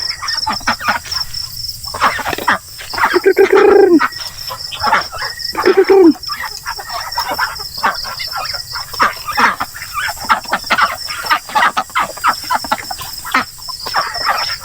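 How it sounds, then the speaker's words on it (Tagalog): Chickens on a farm cluck and squawk in scattered bursts, with a couple of louder drawn-out calls near the middle and softer chatter throughout, close by over a faint background of insects. "yung itim na manok na yan, nandito na yan sa baba."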